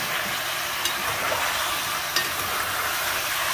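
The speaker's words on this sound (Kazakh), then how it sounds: "Баяу отта қызартып қуырамын." Potatoes fry over low heat in a pan with horse meat and onions, a steady dense sizzle hissing throughout, with a couple of faint stirring clicks.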